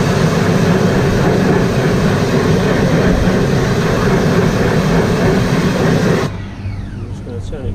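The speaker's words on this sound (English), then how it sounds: "I'm standing on the drum, just giving it a quick zhuzh with the jet wash" A jet wash pressure washer blasts a koi pond drum filter with a loud, steady hissing roar that cuts off abruptly near the end, leaving quieter background sound.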